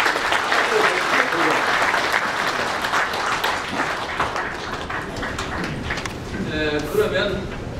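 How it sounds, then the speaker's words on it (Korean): Members at a clan association general assembly give a big round of applause to two leaders, a steady, dense clapping that fills the room for several seconds, with a voice faintly emerging toward the end. "이 고마운 뜻을 보답하는 뜻으로 큰 박수를 한번 두 분께 보내주시고"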